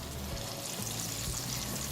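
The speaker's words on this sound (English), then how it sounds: "add 1 ladle of the Adai mixture into the hot oil and spread it a bit" Adai, a rice and mixed dal dosa batter, frying in hot oil in a small wok over a moderate flame, giving a steady, close bubbling sizzle that holds evenly throughout with no talking.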